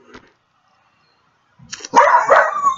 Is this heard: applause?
no